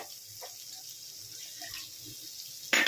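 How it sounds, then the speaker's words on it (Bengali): Water poured from a bowl into a cooking pan of spiced milk-and-pointed-gourd masala, a soft steady trickle with a brief louder splash near the end. "আর একটু আমি বাটিটা দিয়ে একটু জল দিয়ে দিচ্ছি।"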